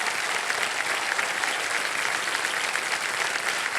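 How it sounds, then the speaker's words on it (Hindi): Clapping from a studio audience for a Kaun Banega Crorepati contestant after a 5 lakh rupee win stays thick and continuous at a constant loudness, with no speech over it. "ताली बज जाए इनके लिए"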